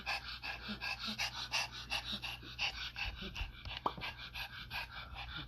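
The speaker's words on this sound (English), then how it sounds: "everyone loves dogs" A dog pants in quick, steady rhythmic breaths close by, with a faint whimper or two mixed in over a low background hum.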